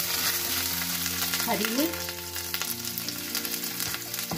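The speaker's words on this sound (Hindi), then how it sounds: "अब इन सबको सौते कर लेंगे," Onions and green chillies sauté in a pan for a masala dosa potato filling, giving a loud, steady sizzle throughout, with a few words spoken briefly over it.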